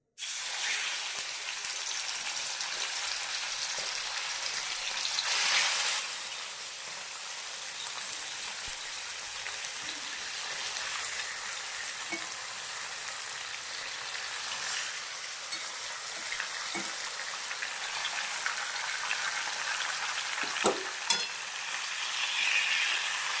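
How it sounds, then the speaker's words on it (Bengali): Chicken marinated in turmeric and Kashmiri chili powder fries in oil previously used for frying potatoes. The sizzle is loud, dense and continuous, like steady rain, with occasional sharper crackles. "এই মাখিয়ে রাখা চিকেনটাকে আমি আলু ভাজার তেলে ভেজে নেব।"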